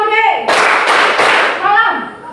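Students in a classroom clap in bursts as part of a call-and-response clapping chant, with loud chanting voices before and after the claps.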